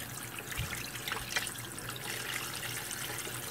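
Tap water runs steadily over oxtail being rinsed in a kitchen sink for Jamaican oxtail, a faint, continuous trickle and splash with no talking.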